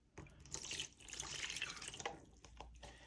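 Lukewarm water is poured into a container for mixing with calcium hydroxide, splashing and trickling faintly and close up in short, uneven bursts with a few drips.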